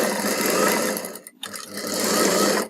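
A sewing machine stitches piping onto a silk saree blouse in two steady running bursts split by a brief pause, close and fairly loud.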